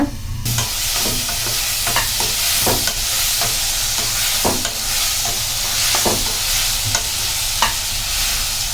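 Tomato and onion masala for kadai paneer frying in a covered pan, a loud continuous hiss with regular spoon taps and scrapes every second or so, close up and without talk.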